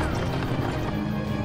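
Horses galloping in an animated Spanish-language story, a dense, continuous drumming of hooves, close and loud throughout a brief moment, with shouting voices mixed in.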